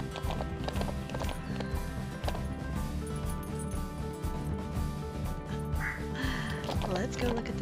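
Hooves of a horse sprinting in a ranch video game drum out a quick, rhythmic clip-clop that runs steadily under game music and someone talking throughout, ending with a brief whinny-like sound.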